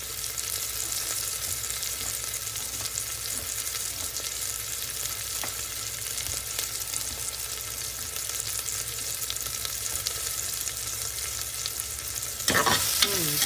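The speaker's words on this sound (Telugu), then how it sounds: "ఉల్లిపాయలు ఫ్రై అయిపోయాయి కదా" Onions fry in a pan for a moocher lentil khichdi, a steady broadband sizzle with light stirring scrapes throughout, close and unbroken, with a brief louder clatter near the end.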